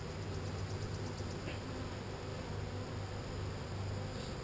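Honey bees buzz softly at a hive entrance late in the evening, a faint, even, continuous hum with no pauses and no voices.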